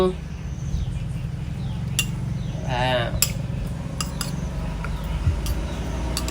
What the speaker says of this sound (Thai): ใส่น้ำต้มลงไปคน